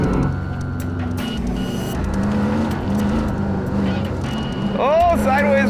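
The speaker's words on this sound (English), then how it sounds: "Oh, he's drifting this corner." A street-legal stock car drifts sideways around a track corner, its engine droning loudly throughout, with a brief tire squeal near the end and a voice talking over it.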